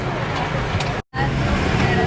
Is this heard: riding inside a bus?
yes